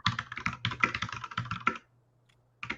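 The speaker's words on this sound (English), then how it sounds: "Somebody's typing like crazy." Rapid, busy typing on a computer keyboard runs in a dense burst of clicks with a low hum underneath, stops for a moment, then starts again, heard close and alone.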